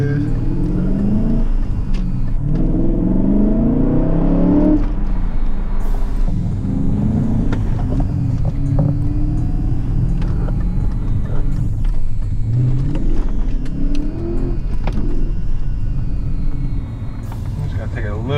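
A BMW E39 M5 with a new clutch turns around and accelerates, its engine rumbling and rising under loud tire noise, heard from inside the car while people talk over it.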